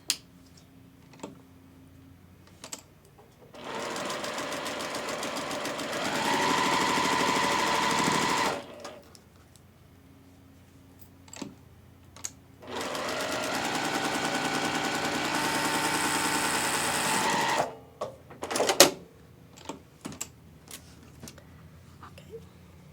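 A sewing machine with a quarter-inch foot and 2.0 stitch length stitching quilt block pieces runs in two steady whirring bursts of about five seconds each, separated by quiet handling clicks, close by.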